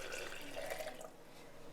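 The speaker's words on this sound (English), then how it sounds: "just pour your tea." Tea poured into a blender jug for a smoothie, a soft, steady liquid trickle running close by for under two seconds, with no talking.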